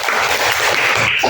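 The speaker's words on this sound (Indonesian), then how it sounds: "tepuk tangan untuk Mbak Rani" Audience applauding for Mbak Rani in a school classroom setting, a dense, steady wash of hand clapping throughout with no break, fairly loud and close.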